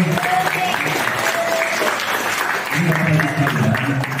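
Applause from the audience at a community meeting about siting a health clinic on a sports field in Glodok, a steady dense clatter of clapping with a few voices mixed in throughout.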